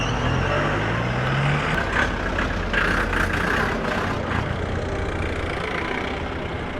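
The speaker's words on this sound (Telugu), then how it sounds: "డీజిల్ ఇంజిన్స్ ఒక్కొక్కటి ఏమన్నా వస్తున్నాయి గైస్ సౌండ్స్" Diesel Jeep Commander vehicles on a night safari road at Kolukkumalai, a loud low engine rumble that swells as one passes close by, with steady growling continuing over several seconds and no talking.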